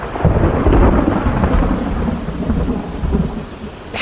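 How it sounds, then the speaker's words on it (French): Thunderstorm breaking out over an outdoor games ceremony, with deep rolling thunder rumbling loudly over steady rain that continues throughout. "un orage éclate et alourdit brutalement le ciel"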